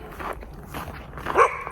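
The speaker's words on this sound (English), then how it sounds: "He sees the sign, and he's barking at it." A dog barks at a trail sign on a mountain hike, giving a few short, close barks spread across a brief moment, the last one loudest, with no talking.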